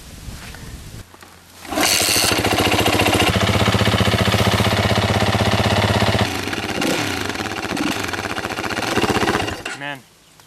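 A four-wheel-drive vehicle on sand at Fraser Island, fitted with a new oil filter and blowing oil, cranks and starts, then runs with a loud, rattly, rough engine clatter before revving down and cutting off.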